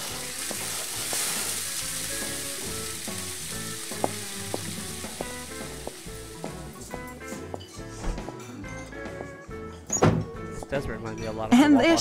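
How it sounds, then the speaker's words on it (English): Breakfast cooking in a diner in the video game Life is Strange, with a steady sizzle of frying food, scattered clinks and thunks of silverware and dishes, and people talking throughout. "Smell of breakfast and the sound of clanging silverware"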